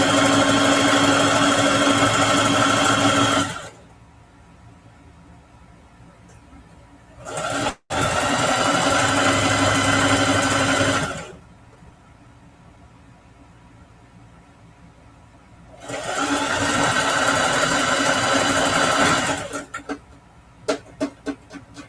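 Sewing machine stitching fabric without a walking foot, running in three loud sustained bursts of rapid steady whirring separated by quiet pauses, close up with no talking.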